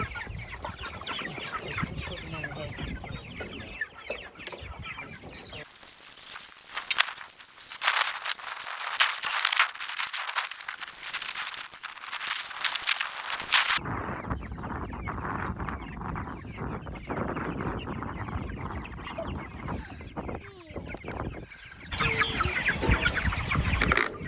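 Pastured broiler chickens cluck and murmur in a busy flock close by, with a long gust of wind-like rushing noise sweeping through the middle before the clucking carries on.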